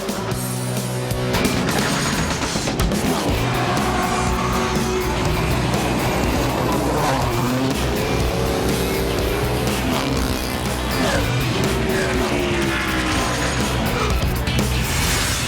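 Formula Continental race cars crossing the finish line at the 2008 SCCA Runoffs, a loud continuous engine roar with passing whines rising and falling as cars flash by, no talk.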